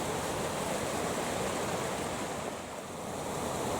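A mountain stream in Iceland rushes steadily in a dense, even wash of flowing water, with no voices.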